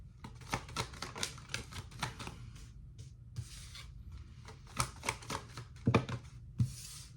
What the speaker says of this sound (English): let me just give me a minute to pull some cards for you